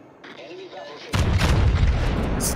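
Battleship main guns firing in World of Warships with high-explosive shells, a sudden heavy boom that rolls into a dense, loud rumble after a brief stretch of quieter game ambience.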